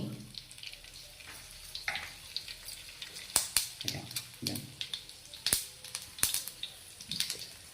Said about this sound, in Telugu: కొంచెం ఆవాలు చిట్టపట్టలు ఆడగానే కథ తీసేసుకోవాలి.